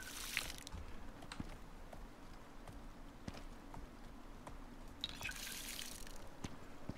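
Water poured onto a farming plot in the survival game Icarus: splashy bursts near the start and again around the five-second mark, over a steady, low in-game ambient bed.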